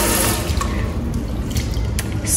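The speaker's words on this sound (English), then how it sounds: "I love the way this tap is flowing. Oh my goodness, I love the way it's flowing water." Water runs steadily from a kitchen sink tap in a one-bedroom house, a close, continuous splashing hiss with faint drips and no talking.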